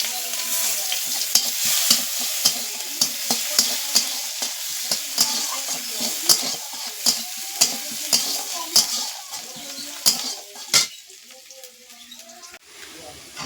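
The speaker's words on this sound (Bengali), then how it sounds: "পেঁয়াজ দিয়ে দিচ্ছি কুচানো পেঁয়াজ" Chopped onions fry in oil in a kadai, a steady sizzle broken by a regular series of scraping stirs roughly every half second, close and clear, fading toward the end.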